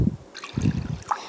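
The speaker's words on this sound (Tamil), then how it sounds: "அதில் ஒரு 1/4 கப் அளவுக்கு தண்ணி" Water trickles into sugar in a kadai to make syrup for rava laddu, a short quiet pour with soft splashing bursts, close by and alone.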